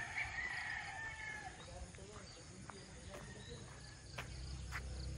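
Poultry chickens and a rooster at an outdoor garden resort, a faint crow and scattered clucks heard at a distance over steady insect chirping and low background voices.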